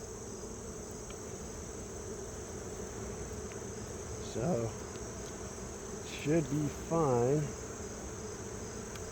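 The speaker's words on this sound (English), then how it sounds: "They're all humming real loud because the queen is gone." Honeybees in a queenless hive hum loudly and continuously, a close, steady drone of the colony. A voice speaks briefly over it, with short bursts of talk partway through.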